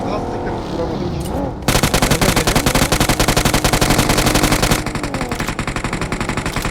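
Automatic gunfire in a video game rattles in a long, rapid, evenly spaced burst, loud and close, continuing without pause after a brief lead-in of engine noise.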